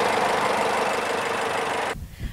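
A 2015 Jeep Cherokee's 2.4-liter four-cylinder engine idles with a steady, low rumbling hum, then cuts off abruptly near the end, leaving faint knocks and rustles.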